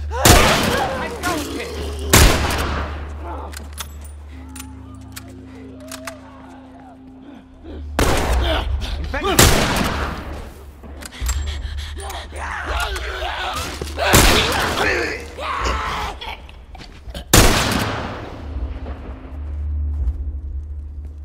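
Loud bursts of gunfire from The Last of Us shooter game, with a sharp volley at the start and then heavy clusters of shots around the eighth, fourteenth and seventeenth seconds. Voices talk between and over the shooting.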